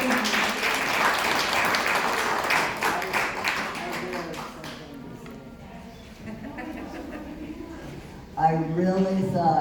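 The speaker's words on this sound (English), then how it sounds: "give a round of applause to these amazing" A dense burst of audience applause at a college event on Native women's resistance fills the first half, then fades while a person talks over the quieter room.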